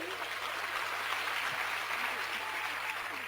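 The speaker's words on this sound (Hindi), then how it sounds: "तो एक जोरदार तालियां हो जाए नेला के लिए" Audience applause for Neila Kakodkar at a business event, a steady, even wash of clapping from a crowd that holds for the whole stretch without any talk over it.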